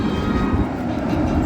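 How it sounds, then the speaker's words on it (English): A Raptor roller coaster test train runs at Cedar Point amusement park in the early morning, a steady, loud low rumble of the train on the track continuing throughout with no pauses. "they have to run test trains in the morning"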